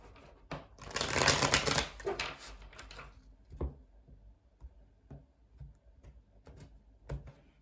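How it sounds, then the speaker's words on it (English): A dense burst of riffling tarot card shuffling, then scattered soft taps and clicks of cards being handled, fairly quiet and close. "Okay, we'll do one last shuffle."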